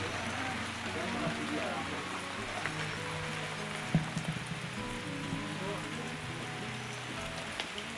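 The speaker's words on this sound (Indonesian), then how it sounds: "Hujan bro." Rain falling steadily on a mountain hiking trail on Mount Sindoro, a continuous wash of drops with a brief sharper knock midway, heard up close with faint voices in the background.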